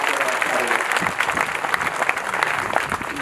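Audience at an Independence Day celebration at a madrasa in Mil Khedla, Rajasthan, clapping together in a dense, steady burst of applause that stays loud and close throughout, with a few voices mixed in.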